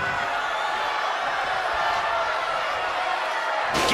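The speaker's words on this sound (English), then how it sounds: "Look at this crowd. It's insanity in here. Bedlam." Arena crowd in WWE 2K20 at a women's wrestling match, a steady loud roar of cheering that swells at the very end, with a commentator's voice faintly under it.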